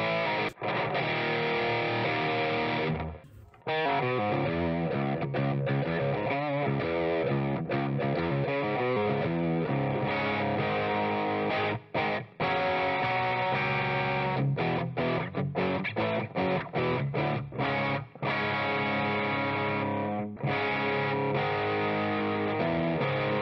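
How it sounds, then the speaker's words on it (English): An electric guitar played through a Caline Eagle Eye boost pedal and a Tiger's Eye distortion pedal rings out in sustained, heavily distorted chords and riffs with brief pauses, loud and alone. "Now let's just try it with the Tiger's Eye distortion."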